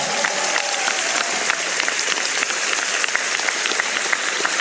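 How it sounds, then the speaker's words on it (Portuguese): A dense, steady round of applause fills the hall at the ceremony honoring a new indigenous doctor at UERJ, many hands clapping continuously at a fairly close, even level throughout. "Agradeço a todos, a todas, agradeço pelos aplausos"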